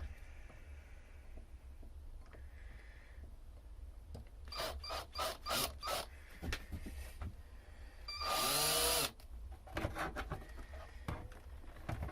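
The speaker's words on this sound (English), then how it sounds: "Can't beat a sharp drill bit, can you?" An electric drill with a sharp bit whirs in several short bursts, boring holes in a pedal board to mount a Crybaby wah pedal, then one longer, louder run near the end, with quiet handling noises between.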